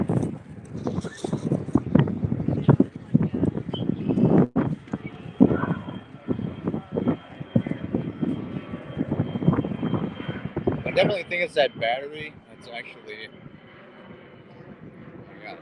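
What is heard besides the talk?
airplane flying overhead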